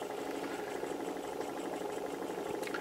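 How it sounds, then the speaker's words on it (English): A small Stirling engine runs quietly, with no tinking or knocking, and holds a steady, even mechanical hum with a soft whirring rhythm close by, without voices. "You'll notice that this engine's running quietly. There's no tinking or knocking noises."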